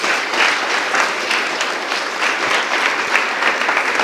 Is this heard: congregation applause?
yes